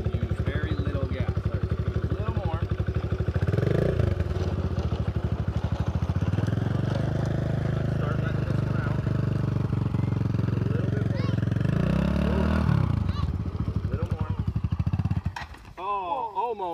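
A dirt bike engine runs steadily and loud nearby, its revs rising and falling with throttle changes on a farm, then cutting off abruptly near the end as voices talk over it.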